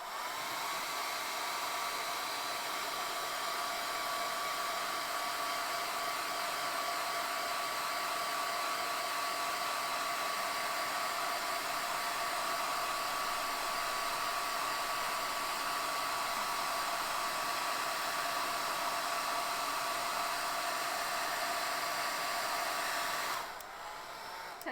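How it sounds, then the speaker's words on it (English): A hair dryer blows steadily on alcohol ink marker artwork, a loud continuous whirring rush with a constant whine that runs unbroken for over twenty seconds before switching off. "going to blow dry the alcohol ink marker because I would like to make sure it is bone dry"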